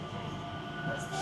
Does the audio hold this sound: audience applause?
no